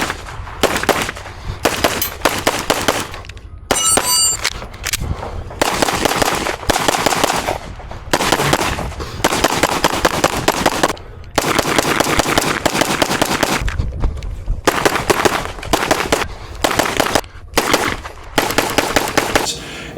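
Rapid pistol shots from an FN Five-seveN USG at a shooting competition, fired in fast bursts and strings separated by short pauses, loud and close, with no talking.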